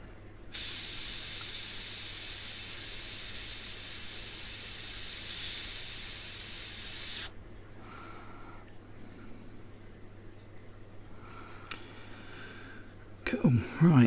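An airbrush sprays paint in a loud, steady hiss for several seconds, then stops, followed by quieter faint sounds and a brief clatter at the end.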